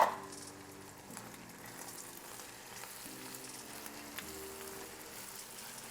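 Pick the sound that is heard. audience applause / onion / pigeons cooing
onion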